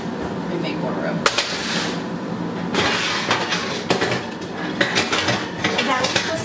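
Pizza pan and pots clatter and bang as they are shifted around a kitchen shelf, with scattered sharp metallic knocks and scrapes at close range under light background noise.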